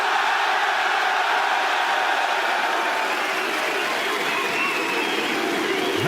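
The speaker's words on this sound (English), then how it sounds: "Who's cheering for Team Secret today?" A large esports crowd at a Rainbow Six Siege event cheers for a team in a loud, continuous roar of mixed voices and shouting that holds steady throughout without a break.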